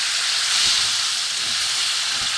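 Water used to rinse spices poured onto potatoes frying with spices in a pan, giving a loud continuous steamy hiss and sizzle, close and unbroken throughout.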